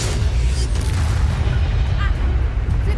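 The Bombarda explosion spell in Hogwarts Legacy on PS5 goes off as deep, rumbling booms with continuous low battle noise, while a voice shouts spell names over the top.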